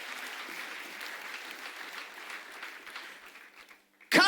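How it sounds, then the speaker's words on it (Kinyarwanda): A church congregation applauds their king, a steady dense round of clapping that fades out toward the end before a sudden loud burst cuts in at the close. "Dukomere umwami wacu amashyi menshi."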